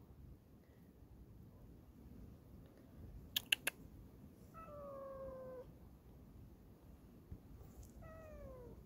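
A cat meows on the rocky summit of Bukhansan, two drawn-out, faint cries a few seconds apart over quiet outdoor background, with a few sharp clicks between them.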